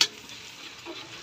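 Garlic sautéing in a pan for pork kaldereta, a soft steady sizzle with faint stirring after a sharp opening tick, close and brief.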